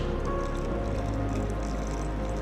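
Boiling water pours steadily onto tea in a cup, a continuous hissing splash with a low rumble under it, close and fairly loud, with no talk over it.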